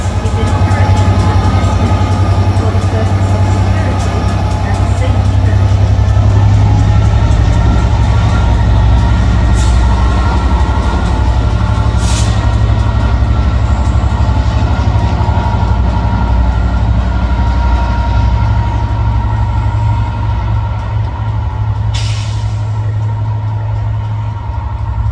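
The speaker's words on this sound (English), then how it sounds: "we've seen the train leave and arrive at platform 3A" A train pulling into and out of platform 3A at Stockport station, with a loud, sustained low rumble of the engine and rolling stock over twenty-five seconds, brief high squeals and clanks cutting through, and faint voices now and then.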